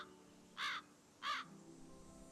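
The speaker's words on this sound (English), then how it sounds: "That sounds like a crow." Two loud, harsh crow caws sound in quick succession in the Nancy Drew: Ghost Dogs of Moon Lake video game, standing out against a quiet outdoor ambience with no talking.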